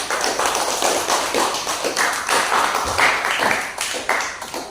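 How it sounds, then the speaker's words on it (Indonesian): A classroom full of people claps together, the applause swelling and fading in uneven bursts before trailing off. "tepuk tangan lagi untuk kita semua"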